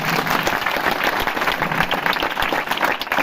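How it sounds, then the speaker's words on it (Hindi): Audience applause for students at a school event: a steady wash of many hands clapping, fairly loud and close, continuing evenly for about three seconds. "तो इनके लिए जोरदार तालियां होगी।"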